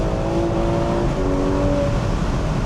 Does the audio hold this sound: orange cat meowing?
no